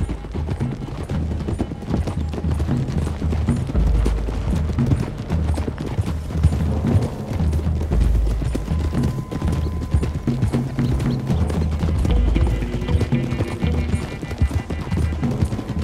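Rapid hoofbeats from several horses galloping steadily throughout in the video game Red Dead Redemption 2, loud and close, with a faint whinny and muffled voices mixed in.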